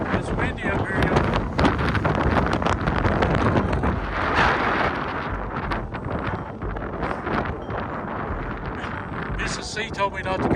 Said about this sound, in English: It's windy up here, y'all.